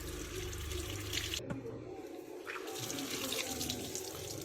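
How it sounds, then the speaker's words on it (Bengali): Tap water runs steadily over scouring sponges being rinsed in a kitchen sink, a continuous close splashing broken by a brief quieter gap as the sponges are moved under the stream. "প্রথমে আমি মাগুনিগুলোকে ধুয়ে নেব ভালোভাবে"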